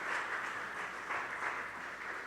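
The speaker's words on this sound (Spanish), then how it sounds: "Denle un fuerte aplauso al Señor." A church congregation claps in a steady, continuous round of applause for the Lord, with a dense wash of many hands swelling slightly and holding loud throughout.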